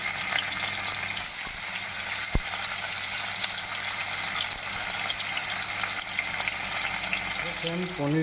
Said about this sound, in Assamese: পনীৰ এতিয়া ফ্ৰাই হৈ আছে আপোনালোকে চাইছে ভিডিঅ'ত